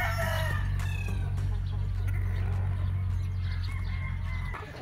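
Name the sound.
gamefowl rooster crowing at a game farm, Sweater Gilmore breed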